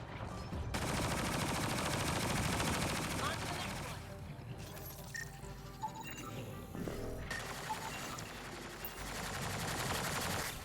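Video game gunfire in Mass Effect Andromeda, aimed at the player during animal hunting: rapid automatic bursts and volleys, loud and sustained, with a brief lull midway before the shooting resumes.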